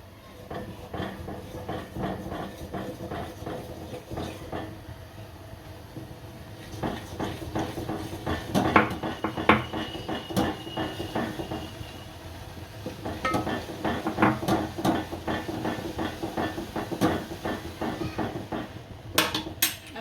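A spoon stirs dhokli dough made of flour, soda and sugar in boiling water in a metal pot, producing repeated close scraping and clinking against the pot's sides in a steady, uneven rhythm.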